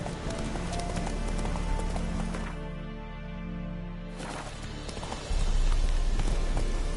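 Hooves of the horse Roach clip-clop at a gallop in The Witcher 3, a steady rhythmic pounding that runs loud and close throughout, briefly easing midway before surging again under ambient game sound.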